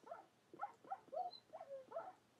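A dog in a building video game yelps in pain as a cactus hurts it, giving six short, quiet whimpering cries in a steady rhythm.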